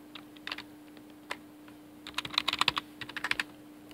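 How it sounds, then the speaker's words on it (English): A password is typed on a computer keyboard in short clustered bursts of quick, light key clicks, close and faint, with a quiet steady hum beneath and no speech. "Type in your password."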